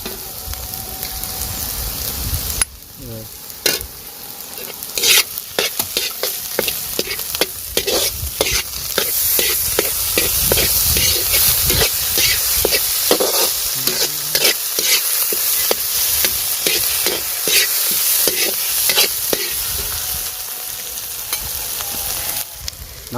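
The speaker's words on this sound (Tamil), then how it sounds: "அடுத்தது நம்ம இஞ்சி பூண்டு விழுது போட்டுக்கிறோம்." Onions, curry leaves and ginger garlic paste sizzling and being stirred in a pan for an Indian egg gravy, with a continuous loud crackle broken by scraping stirs, close up with no talk.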